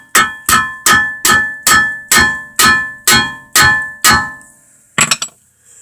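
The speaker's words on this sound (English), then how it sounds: "let's go ahead and tap on this bolt here. It's hammer time." Hammer tapping a bolt on a VW Passat steering rack, about nine loud, evenly spaced ringing metallic strikes up close, then a pause and a final quicker double clank.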